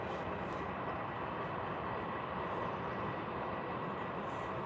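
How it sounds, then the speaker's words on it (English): A Cessna Citation business jet at Birmingham airport, heard as a steady, broadband engine roar and rumble that holds evenly throughout at moderate distance, with no talk. "There's a Cessna Citation."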